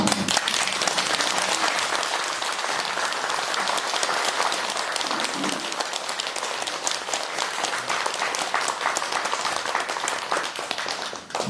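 A congregation at a Buddhist temple dharma assembly gives big applause for a monk, dense, sustained clapping that stays loud and even throughout.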